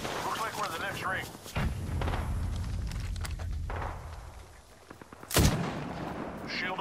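Gunfire in Apex Legends, a few sharp shots and bursts with one loud crack near the end, amid gameplay rumble and movement noise, moderately faint overall.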